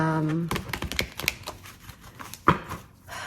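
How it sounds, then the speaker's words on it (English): A deck of tarot cards gets a quick shuffle close by: a rapid run of soft flicks and clicks, ending in one sharper snap, after a brief voice at the start. "I do like to give this a very quick shuffle before we dive into this"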